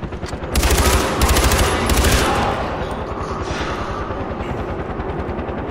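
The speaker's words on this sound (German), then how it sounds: "Das ist der Heli." In the video game Far Cry 4, a helicopter's steady rotor chop pulses under bursts of rapid automatic gunfire, loud and close, then the rotor continues alone.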